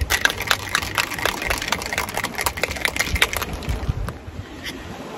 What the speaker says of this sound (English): And we'll give that a nice shake.